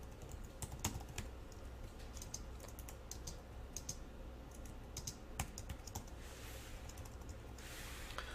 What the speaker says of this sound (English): I start typing the next line of code